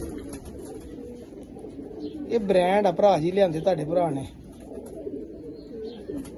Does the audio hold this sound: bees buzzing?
no